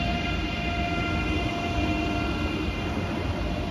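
ICE 3 high-speed train pulling out of Düsseldorf main station, a steady loud rumble of wheels and traction hum filling the whole stretch with constant level, no talking.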